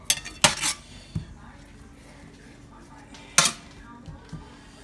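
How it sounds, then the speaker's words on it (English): A fork beats eggs in a bowl for an omelet, giving a few sharp clinking and scraping bursts against the dish separated by quiet pauses, close by in a home kitchen. "And then you beat your eggs even more."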